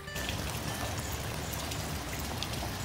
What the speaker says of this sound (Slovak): lebo prší.